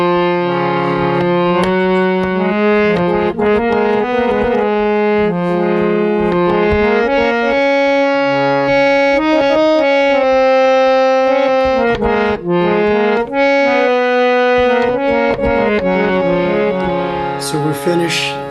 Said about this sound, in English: This raga is called Jai Jayanti.